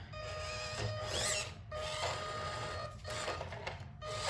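An Eazy RC Glacier crawler climbs a steep slope, its servo and motor giving a steady mechanical whine with a thin tonal hum that surges and dips in strength over a few seconds, close and alone.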